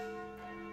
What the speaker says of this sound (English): Those sound like the church's noontime bells.